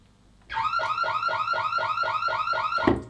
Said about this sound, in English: Sounds like a car alarm.